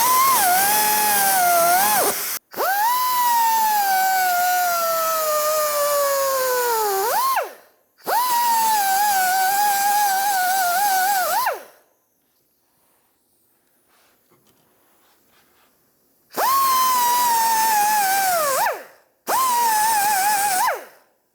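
A cutting wheel on a rotary tool screams through a sway bar link on a 1997-2001 Lexus ES300, loud high-pitched bursts that dip in pitch under load, with one long quiet pause midway.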